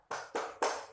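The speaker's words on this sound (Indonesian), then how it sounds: "ibu ingin anak-anak ibu tepuk semangat" A classroom of children clapping in unison for a rhythmic cheer, three sharp group claps in quick succession at close range, with no voices.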